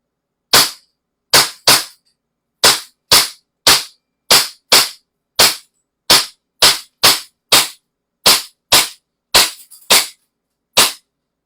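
A KP16 gun fires about sixteen sharp, loud shots one after another at an uneven pace, each crack short and cutting off into silence, with no voices between them.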